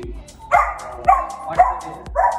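A golden retriever puppy barks in a pet store, four short sharp barks spaced about half a second apart, fairly close and loud with no talk over them.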